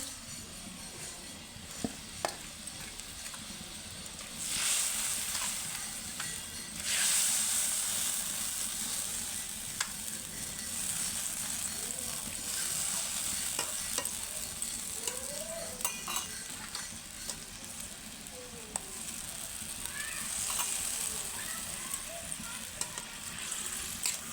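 Soft bubbling and hissing of a rohu fish curry simmering in a pan, with occasional faint clinks and some quiet background voices.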